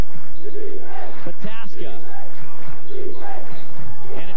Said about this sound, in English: Viking cheering section standing and cheering